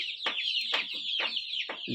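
Free-range desi chickens cluck in a series of about four sharp, fairly close calls at an even pace, with no one speaking.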